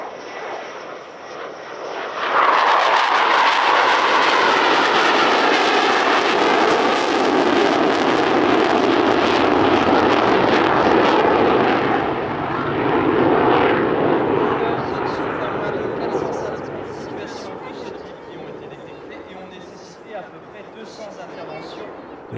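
A Dassault Rafale B two-seat fighter roars past at an airshow. A quieter whine swells abruptly into a loud, sustained jet roar that slowly fades away into distant rumble.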